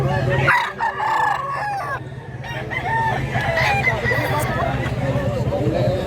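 A fighting rooster at a cockfight in Mantalungon, Cebu crows over a steady crowd din, with a low hum running under it and people talking around it.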